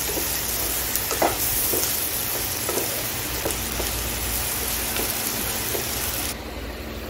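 Bottle gourd pieces fry in a pan with a steady, close sizzle and crackle, broken by soft clinks and stirring taps, before the sound thins out near the end.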